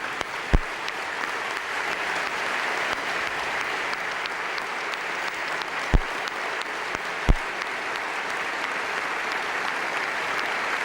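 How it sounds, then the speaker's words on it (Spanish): Sustained audience applause at the 2002 Prince of Asturias Awards ceremony in the Teatro Campoamor, a steady, full hall of clapping for over ten seconds with a few sharp louder claps or knocks standing out. "aplaudidos no solo por los presentes en el Teatro Campoamor"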